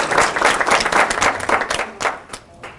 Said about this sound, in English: Please give her applause.